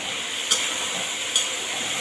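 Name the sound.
vegetables frying in a pan with turmeric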